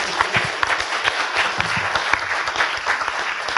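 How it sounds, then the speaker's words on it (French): A seated audience in a French courtroom-style pleading contest applauds steadily with many hands clapping, a dense, even patter heard from the room. "Je pense qu'il mérite quelques applaudissements avant de rejoindre..."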